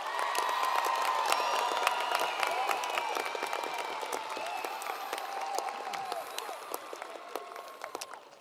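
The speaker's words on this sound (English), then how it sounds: "Let's acknowledge this group with a round of applause." A high school graduation audience applauds the honor graduates as they stand, broad clapping and some cheering that gradually thins toward the end, with faint voices mixed in.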